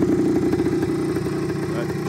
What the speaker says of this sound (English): But she idles nice, starts up real easy